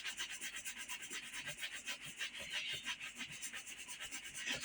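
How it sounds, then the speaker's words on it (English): A horsehair brush rubs briskly over a leather shoe during polishing, making a steady close-up swishing scrub in a fast back-and-forth rhythm. "It's the soft rubbing that brings out the luster."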